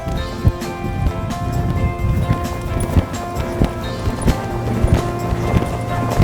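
A horse loping during a riding session, with rhythmic hoofbeats thudding at an even canter pace, fairly close and clear over a faint steady background hum.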